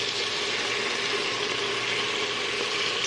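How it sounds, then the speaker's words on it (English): A spatula scrapes stuck bits from the bottom of a cooking pan, a continuous gritty rasping with sizzling underneath, steady and close. "take a spoon or a spatula and scrape up all these bits"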